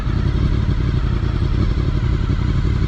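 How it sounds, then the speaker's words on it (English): A motorcycle engine idling as the clutch is eased out and the bike creeps forward without throttle, a loud, steady, close low rumble with no voices. "So your bike starts to move on its own."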